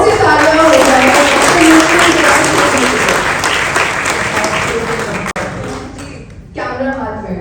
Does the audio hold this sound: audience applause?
yes